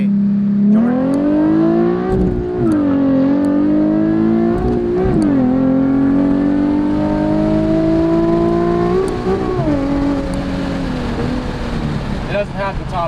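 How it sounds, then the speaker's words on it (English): A Nissan 370Z with a stock motor, catback and Tomei exhaust pulls at full throttle, heard from the passenger seat: a loud, rising engine note that drops briefly at each gear shift and climbs again. "first pull of me sitting in the passenger seat with the Tomei"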